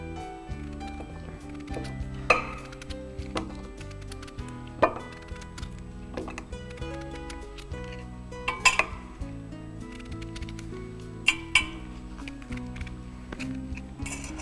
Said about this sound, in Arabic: هناخد الحله اللي عندنا طنجره، هنحط فيها بطاطس